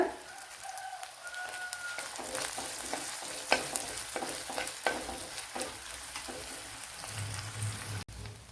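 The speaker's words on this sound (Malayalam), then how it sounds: "ഇനി ഇതിലേക്ക് ശകലം കറി ലീവ്സ് ചേർത്ത് കൊടുക്കുക" Curry leaves drop into hot oil for a kovakka (ivy gourd) coconut milk curry, giving a steady close sizzle with scattered pops and crackles across the clip and a low rumble near the end.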